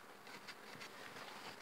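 Honey bees buzzing densely around an open beehive while beekeepers add a super in spring, a continuous close humming swarm with wingbeats rising and falling, no voices.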